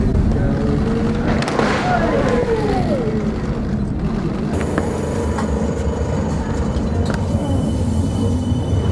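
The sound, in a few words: tram departing Grand Central station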